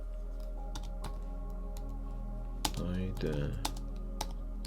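Typing on a computer keyboard while building a website, scattered single key taps followed by a fast flurry of clicks, faint over a steady electrical hum, with a brief spoken word.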